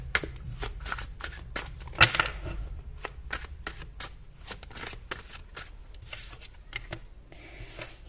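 Tarot cards are shuffled and drawn by hand in a quick series of crisp riffling and snapping bursts, close and fairly loud, with occasional soft handling noise between them.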